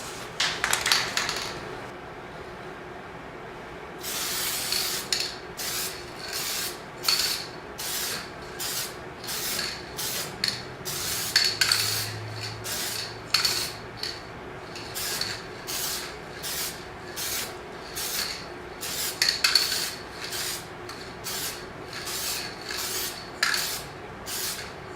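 Short rhythmic hisses of primer sprayed from an aerosol can onto a small rust-hole repair on a car, a steady run of separate bursts, close and moderately quiet.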